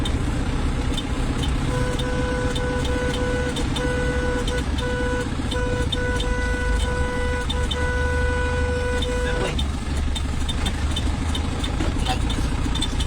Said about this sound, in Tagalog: Naglulos yung busina namin kaya maingay. May sariling buhay.